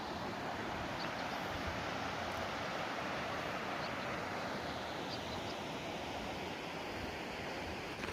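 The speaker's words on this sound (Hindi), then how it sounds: "ये सुंदर नदी पहाड़ से आती हुई" Steady broadband rush of a river flowing down from the mountains toward the Narmada, heard continuously and fairly close in an open, sparsely vegetated landscape, with no other sounds standing out.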